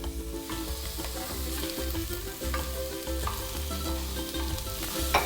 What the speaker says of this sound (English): once your oil heats up, you're just gonna put your onions in there.